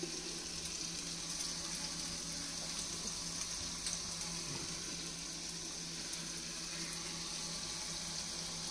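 Rosh bora sweet dumplings fry in oil over a medium gas flame, a faint, even sizzle and crackle running steadily throughout with no one speaking.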